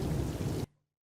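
Steady rain during the rainy season falls as a dense, even hiss, then cuts off abruptly after about half a second.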